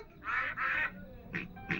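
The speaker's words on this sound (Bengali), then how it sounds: "হাঁস কেমন ডাকছে?" Cartoon duck quacks from a Peppa Pig episode on a TV, four nasal calls in two pairs, the first two longer and the last two short, fairly close and clear with no talking over them.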